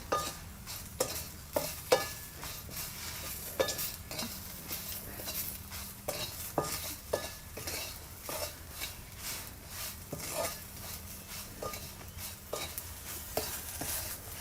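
Cluster beans stir-fried with salt in a pan, with a soft sizzle running under steady scraping and clinking of a spatula against the metal, quiet and close.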